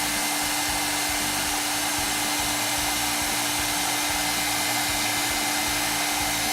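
A heat tool blows hot air onto copper to darken its patina, producing a loud, steady whooshing roar with a constant motor hum that runs unbroken from start to finish.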